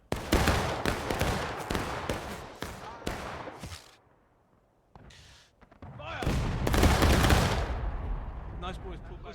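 Musket volleys crack out in War of Rights, an American Civil War battle game, as a dense, loud ragged burst of overlapping shots, a brief lull, then a second heavy volley rolling out, with voices calling amid the firing.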